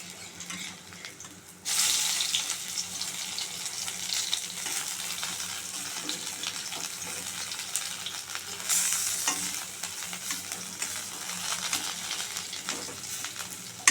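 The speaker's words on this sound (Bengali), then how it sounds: "একটু চেপে চেপে ভাজবো যেন ভেতরটা কাঁচা না থাকে।" Onion fritters (piyaji) pressed down in hot oil give a loud, close, continuous sizzle that surges up suddenly after a quiet start and swells again midway.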